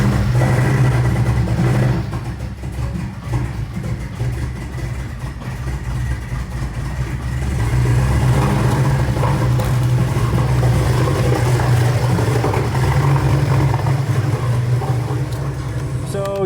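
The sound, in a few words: 2017 Porsche 718 Cayman engine running rough, rat-chewed fuel pressure sensor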